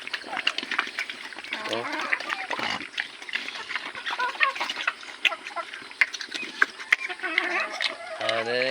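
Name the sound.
chickens clucking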